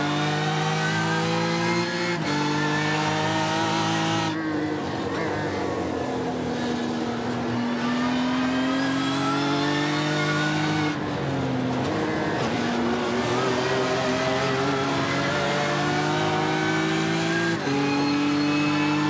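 Race cars including a BMW M4 GT3 on a circuit: loud sustained engine roar with rising and falling revs through gear changes, several cars overlapping in a steady wall of motor noise.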